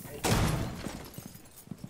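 Gunfire in a shooting video game lands as a sudden loud burst followed by a few scattered lighter thuds that fade away.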